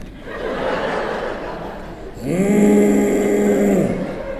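A person mimics a husband's snoring: a low nasal rasp, then a loud droning snore with a whistling overtone held for about two seconds, heard over a noisy room.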